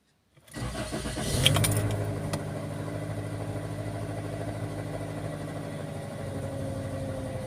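A Toyota car engine, just repaired after a P1315 trouble code, cranks briefly and fires, then settles into a steady, even idle heard close by with no voices.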